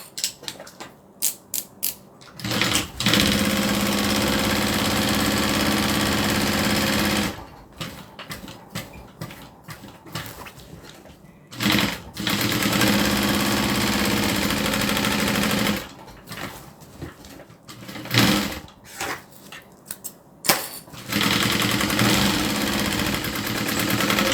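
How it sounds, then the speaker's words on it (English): A sewing machine quilting a random free-motion pattern runs in long, steady, loud bursts of mechanical whirring, separated by short pauses with clicks, and no one talks. "And then now I'm just going to quilt a pattern."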